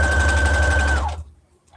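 A sewing machine stitches two layers of fabric for a reversible mini tote bag, a steady close whirring run that stops abruptly after about a second, leaving near silence.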